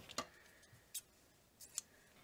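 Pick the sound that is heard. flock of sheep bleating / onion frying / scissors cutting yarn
scissors cutting yarn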